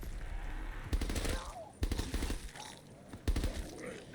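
An STG rifle fires in long automatic bursts in a custom Black Ops 3 Zombies map, three loud rapid strings of shots separated by short pauses.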